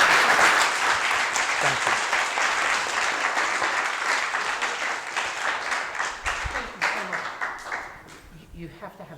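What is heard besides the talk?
audience applause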